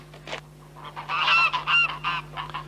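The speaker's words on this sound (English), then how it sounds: "Fine flocks of geese and a pet of a gander feeding out of a pot" A flock of geese on a British farm honks repeatedly, several overlapping nasal calls in quick bursts, fairly close, with a steady low hum underneath.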